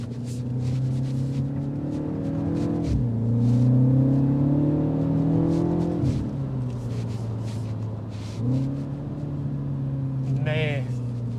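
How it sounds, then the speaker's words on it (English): A 2025 Mini JCW Hardtop 2-Door's twin-power turbocharged engine with a seven-speed dual-clutch automatic pulls hard, its droning note rising through the revs with audible gear shifts between pulls, heard from inside the cabin with talk over it. "That twin power turbocharged engine is no joke."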